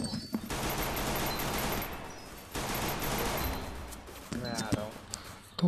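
Sustained bursts of automatic gunfire from the mobile battle game Free Fire, dense and continuous with brief gaps, while players talk over it.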